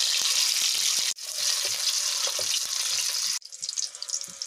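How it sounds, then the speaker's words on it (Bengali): Eggs coated in salt and turmeric sizzle loudly in hot oil in a pan, browning for a Bengali egg curry; the steady hiss breaks off abruptly twice before resuming. "এবার এগুলোকে আমি লালচে করে ভেজে নেব।"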